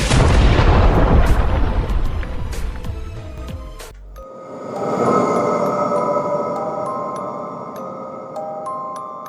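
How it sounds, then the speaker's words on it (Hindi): A loud, deep explosion in a cemetery roars and rumbles for several seconds, then stops abruptly and gives way to swelling tonal music. "पूरे कब्रिस्तान में जोरदार धमाका हो जाता है"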